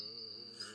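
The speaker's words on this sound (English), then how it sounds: "she could hear the crickets chirping outside" A brief, steady high-pitched insect trill, like a cricket chirping, rings continuously in a quiet setting.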